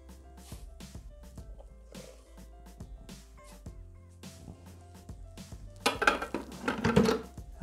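A mixture is scraped and transferred into a bowl of whipped egg whites, giving repeated light clinks and scrapes of utensils against a bowl, becoming louder and busier toward the end.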